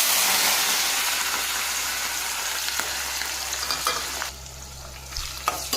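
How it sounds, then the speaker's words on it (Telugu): Cumin and whole tempering spices sizzle and crackle in hot oil in a pan, a steady loud frying hiss with occasional pops and stirring, easing slightly toward the end. "ఆయిల్ హీట్ అయిన తర్వాత తిరగమోతు దినుసులు వేసుకున్నాను. ఇప్పుడు జీలకర్ర కూడా వేసుకుంటున్నాను."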